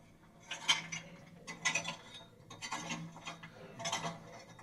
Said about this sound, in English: Here is the sound of the pickaxe.